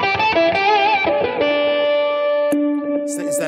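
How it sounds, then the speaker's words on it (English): Gritty, buzzing octave-fuzz guitar tone from a GNI Multi Fuzz pedal with a bright upper-octave edge, sustained notes ringing out after a quick run, close and loud. "It's a ratty kind of octave fuzz."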